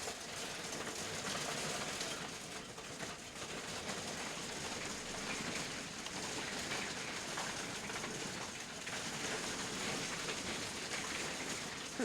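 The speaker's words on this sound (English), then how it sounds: "I don't know if my mic's picking that up or not, but it do be hailing outside" Hail falling outside, heard as a steady, dense patter of hard drops on surfaces, continuous and fairly loud throughout with no talk over it.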